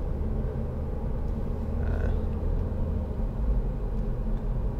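Steady low road rumble and engine drone inside a 2010 SEAT Leon 2.0 TD FR hatchback cruising on a motorway, a constant dense hum with tyre and wind noise throughout and no talking.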